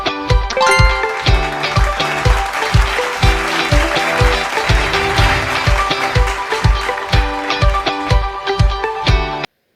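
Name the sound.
applause sound effect in Smart Apps Creator app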